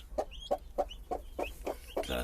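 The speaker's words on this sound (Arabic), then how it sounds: "جو الدجاجة طلعناها" A hen, just taken out after hatching chicks, clucks in a regular series of short, close clucks about every third of a second, with faint chick peeps between them.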